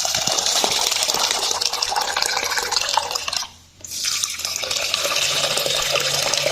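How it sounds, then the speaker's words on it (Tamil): Water gushes into a bowl of rice, lentils and dried red chilies being soaked, a loud continuous pour that briefly stops partway through before flowing again. "இப்போ தண்ணி போட்டு ஊற வச்சுக்கோங்க"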